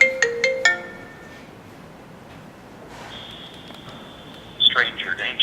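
Phone ringtone from an incoming call sounds as a few sharp melodic tones at the start, then a long steady electronic tone later with voices talking over it.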